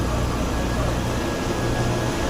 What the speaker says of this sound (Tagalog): So ito yung vacuum pump natin.